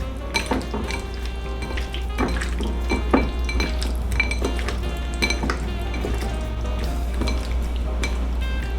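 Shrimp and hot pepper are stirred together in a bowl for a home-cooked dish, giving a steady run of utensil scrapes and clinks against the dish over a constant low hum, with no talk.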